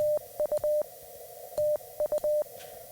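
Morse code CW tone sending TU, meaning thank you, as a steady single-pitch beep keyed twice in a long-short-short-long rhythm, clear over faint background hiss.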